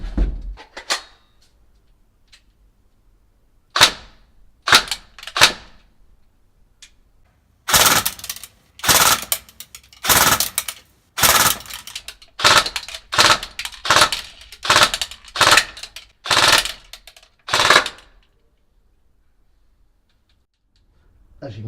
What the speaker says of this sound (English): this has got an enhanced flash hider that creates quite a unique sound when it's being fired, so listen out for that. Set for 3 round bursts,